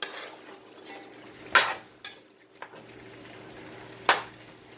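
Chicken basting in a hot oiled pan for Puerto Rican arroz con pollo, heard as a few sharp clanks of a utensil against the pan over a soft background hiss, close and loud, with no talking.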